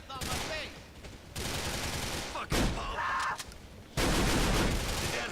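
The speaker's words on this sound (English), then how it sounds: "Basically a full auto shotty." A full-auto shotgun in a GTA game fires in several loud bursts of rapid blasts separated by brief pauses, with a short mechanical reload-like rattle between volleys.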